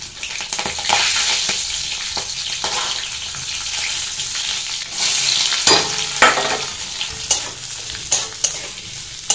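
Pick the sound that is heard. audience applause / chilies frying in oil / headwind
chilies frying in oil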